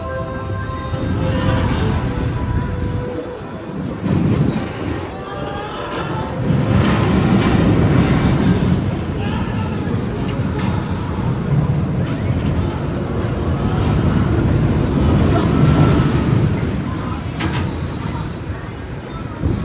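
Batman the Ride roller coaster at Six Flags Fiesta Texas rumbles and roars loudly in surges, with a train-like mechanical drone rising and falling, and voices talking over it.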